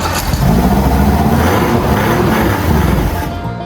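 A used boat's outboard engine runs loud and steady after a carburetor spray start, a dense rough roar close by that holds for a few seconds before cutting off.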